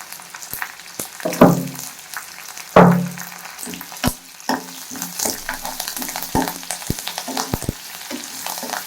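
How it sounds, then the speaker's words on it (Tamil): Garlic being tempered in hot oil for a bottle gourd koottu sizzles and crackles in bursts, with two loud splashy spikes early on and then steady frying crackle and clinks of stirring. "இதை மாதிரி தாளித்து ஊற்றுங்க"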